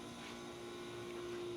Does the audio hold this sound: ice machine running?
yes